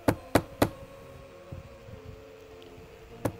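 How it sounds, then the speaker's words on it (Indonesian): Knocks on a door late at night in a quiet room: a quick burst of three sharp raps, a faint tap in the pause, then one more knock after a gap of about two seconds, with no voices. "ini siapa ya ketok pintu terus?"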